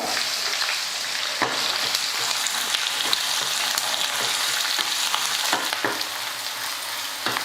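Finely chopped onions sizzle and crackle steadily in a hot pan, with occasional louder pops and a stir, close and continuous.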